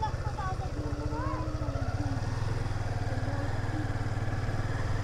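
A motorcycle engine throbs close by on a road, a steady low pulsing rumble with clattery overtones that holds throughout while faint voices sound over it.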